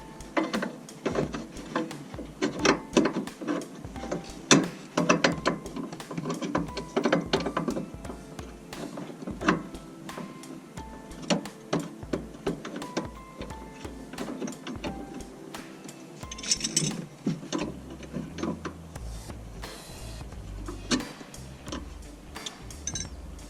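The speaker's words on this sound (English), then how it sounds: "we're going to take the bracket off, get the bracket for the rugged radio, and get it put in" A ratchet wrench clicks away at the mounting bracket of a CB radio inside a vehicle, with bursts of fast ratcheting, pauses and metallic clanks, close and alone without speech.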